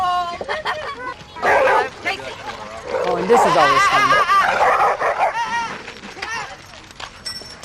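An upset dog at a dog park barks and whimpers in close, repeated bursts, with a person talking over the noise.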